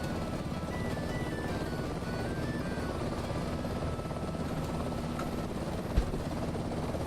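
A Bell UH-1H helicopter in a flight simulator game drones on steadily, its rotor chop and turbine whine holding a constant, loud level throughout, with one brief click near the end.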